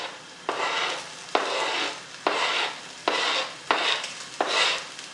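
Garlic and beans sautéing in a pan are stirred in six regular sweeping strokes, each a close scraping swish over a soft sizzle, with no talking.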